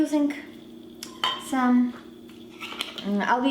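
A spoon scrapes and clinks against a bowl while mixing semolina, flour and yeast into homemade pizza dough, with short rhythmic knocks heard up close and a voice talking over parts of it.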